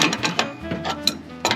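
A wrench snugging a hydraulic filter fitting on a mini excavator gives a run of close, sharp metallic ratcheting clicks. They come in several short bursts with brief pauses between them.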